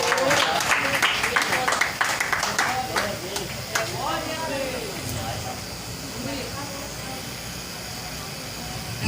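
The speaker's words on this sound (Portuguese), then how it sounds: "Dê um aplauso ao Senhor." A Pentecostal church congregation gives a round of applause, loud scattered clapping in the first seconds that thins out into a hissy, reverberant room murmur with voices underneath.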